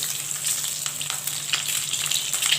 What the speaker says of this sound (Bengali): এই তেলের মধ্যেই আমি দিয়ে দেবো সরষের তেল